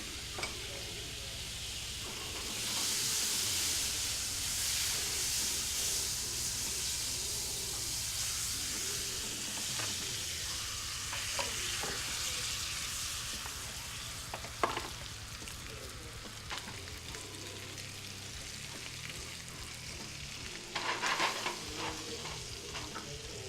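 Food sears in hot butter in a pan with a steady, close sizzle and hiss. Occasional stirring scrapes and spatters rise over the frying, with no voices heard.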